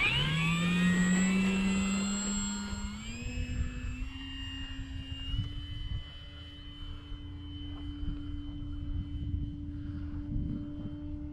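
An Arrows Husky RC model airplane takes off from a runway. Its motor whine is loud and close at first, climbs in pitch, then settles into a steady, slowly fading drone as the plane moves away.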